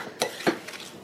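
A utensil stirs sugar and butter into a cheesecake crust in a bowl, two short scraping clinks followed by softer faint scrapes, no talk.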